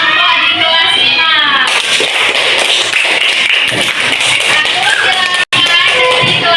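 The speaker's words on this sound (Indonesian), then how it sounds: "beri tepuk tangan dulu untuk perwakilan kelompok di kelas 5" A classroom of primary pupils claps for a group representative during a lesson: children's voices first, then a burst of quick, sharp hand claps that carries on under chatter, with one brief dropout near the end.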